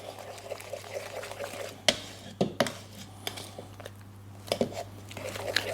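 A whole egg is mixed into tartlet batter, making soft wet squishing and stirring sounds with occasional sharper clinks of the utensil against the bowl, close and moderately loud, with no talking.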